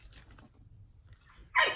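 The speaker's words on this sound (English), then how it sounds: "He's barking." A dog gives a single short, sharp bark at the end, loud and fairly close in a quiet room, after faint rustling and small whimpering sounds.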